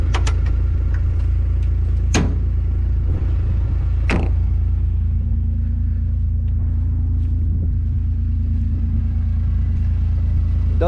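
2020 Kawasaki Mule utility vehicle driving, a steady low engine rumble throughout with a few sharp clanks and rattles from the body over bumps.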